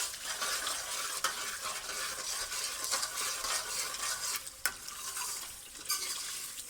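Peshawar-style chicken charsi karahi fries hard in a wok, a loud continuous sizzle broken by repeated metallic stirring scrapes and clanks, close up with no talking.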